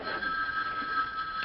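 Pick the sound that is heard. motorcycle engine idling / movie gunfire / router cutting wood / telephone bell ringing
telephone bell ringing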